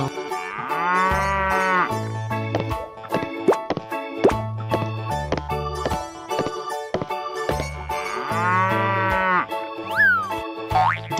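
A cartoon cow moos twice in a long, wavering low call among bouncy plops, boings and other playful sound effects, loud and close with no voices.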